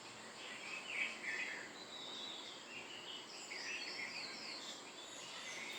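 Early morning outdoor ambience of birds calling, with several high chirps and trills scattered over a faint steady insect-like hiss, distant and fairly quiet throughout.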